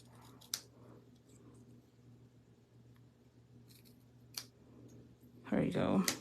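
Scissors snip paper at an angle for a handmade card, two quiet, sharp cuts spaced apart, ending in louder rustling and a speaking voice.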